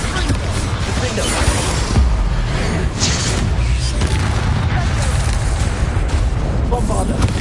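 Bombarda spell blasts in Hogwarts Legacy: a dense, continuous barrage of loud booms and crackling impacts with a voice shouting over the din throughout.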